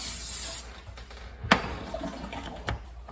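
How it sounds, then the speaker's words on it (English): Cooking spray hisses briefly onto a cookie sheet for homemade pretzels, a short close spray burst followed by soft clatter and a couple of faint knocks. "we are going to need to spray the cookie sheet"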